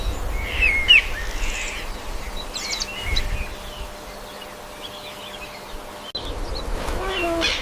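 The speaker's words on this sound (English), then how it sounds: "Starling." A common starling sings a varied run of chirps, squeaky whistles and rough chattering notes, moderately close, over a soft, steady outdoor background.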